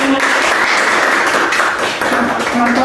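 Applause from a training group's members, a dense steady patter of many hands filling the clip at close range, with a few voices mixed in.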